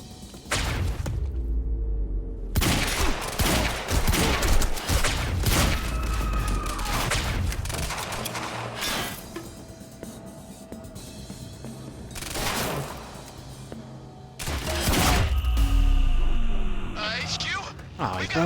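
Gunfire in the action game Quantum Break: bursts of rapid shots and heavy thuds crackle through a tense firefight, with stretches of quieter ambience between volleys.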